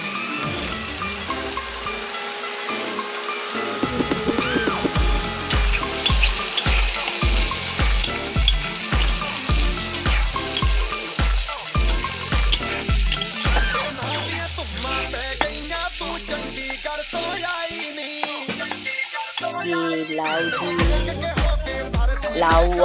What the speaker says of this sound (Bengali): এগুলো ভাজাভুজি করছি